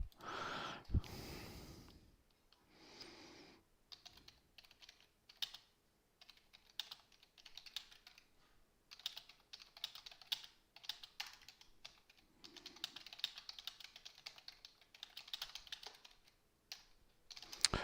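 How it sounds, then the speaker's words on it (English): Fingers tapping computer keyboard keys in quick, irregular bursts throughout, close and fairly quiet, with a few breathy sniffs near the start and no talk. "I hear my fingers tapping the keys."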